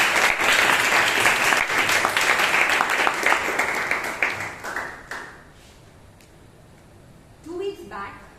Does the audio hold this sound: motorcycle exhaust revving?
no